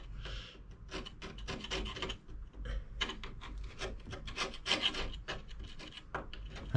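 A hand scraper rasps against rivets inside the steel hull of a Dutch barge, harsh repeated gritty strokes up close with an uneven rhythm and no talk.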